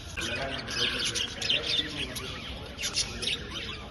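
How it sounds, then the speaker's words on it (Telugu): Small birds in Pondicherry chirp and tweet in quick repeated bursts close by, bright calls rising over a low background murmur. "క్యూట్ బర్డ్స్ ఉన్నాయి గైస్"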